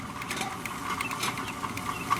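A sewer drain cleaning machine runs through old Orangeburg pipe in a house main line, giving a steady close mechanical whir with faint pattering and rattling throughout and no talking.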